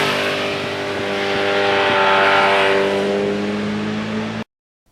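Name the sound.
1982 Suzuki GS1100E motorcycle riding on bumpy back roads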